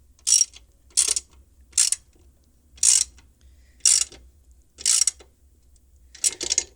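A ratchet wrench tightens bolts on a folding platform e-bike rack, giving seven short, crisp clicking bursts at a steady, roughly one-per-second rhythm, close by in a quiet space.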